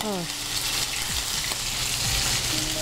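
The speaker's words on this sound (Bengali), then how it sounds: "মাছগুলো একটু হালকা ভাজবো, ইলিশ মাছ তো" Hilsa fish frying lightly in a pan with a steady, dense sizzle, with faint tonal background sounds underneath.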